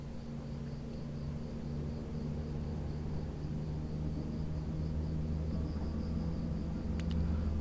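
DT5 subway train pulling away in the SubwaySim Hamburg video game, a low steady rumble and hum with a faint high whine, building slightly toward the end, with no talk over it.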